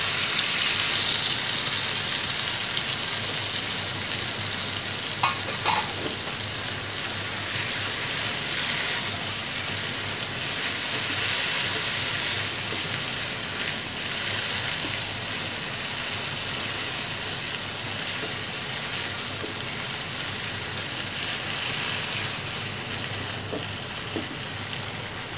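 Boiled banana flower (mocha) frying in a pan while being stirred, giving a steady hiss throughout with faint occasional scrapes.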